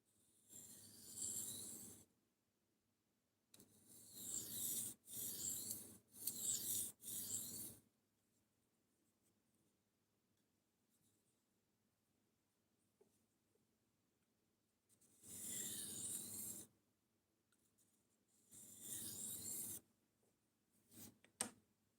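A knife blade gets a touch-up sharpening in repeated rasping strokes, grouped in bursts of several passes with long quiet pauses between, soft and close.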